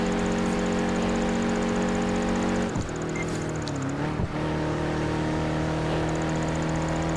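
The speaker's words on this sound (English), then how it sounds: "Man, we're still going at high speed with this car." A high-revving car engine at speed in Project Gotham Racing 4, loud steady drone with stacked harmonics, briefly dipping around the middle as with a gear change before holding its pitch again.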